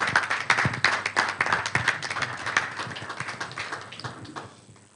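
Applause from a conference audience, a dense patter of many hands clapping that starts strong and gradually thins and fades toward the end, with no talking over it.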